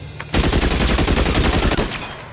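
A sudden close burst of rapid gunfire from gangsters in the video game LA Noire, loud crackling shots packed into a dense barrage lasting about two seconds, alone without talk.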